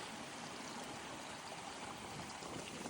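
Water from a koi pond waterfall trickles and rushes in a steady, even wash, faint and continuous, with no voices.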